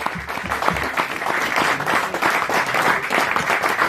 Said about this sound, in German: das ist ein bisschen ein größerer Applaus wert als wir normal